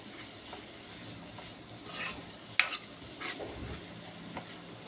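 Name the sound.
masala frying and stirring in oil for eggplant curry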